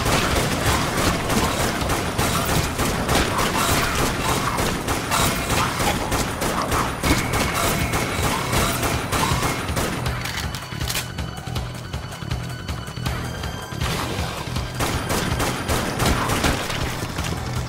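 Dense, rapid rifle fire crackles continuously in the game Dead Nation, with sharp repeated shots layered over a busy game soundscape; the volume stays steady throughout.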